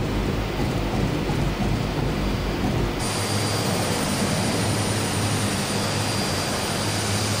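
Simulated Aerosoft Twin Otter fitted with skis sits at a runway threshold with no snow, giving a loud, steady broadband roar and rumble that shifts in character partway through, with no talking.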